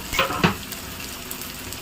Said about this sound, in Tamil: எண்ணெய் காஞ்சிருச்சு நம்ம இப்போ வெங்காயம் போட்டுக்கலாம்